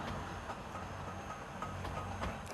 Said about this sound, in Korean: 유럽에서 가장 높은 곳을 오르는 산악 열차입니다